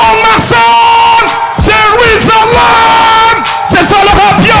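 A crowd at a hip hop concert yells and whoops in repeated loud bursts, rowdy cheering rising and falling close by.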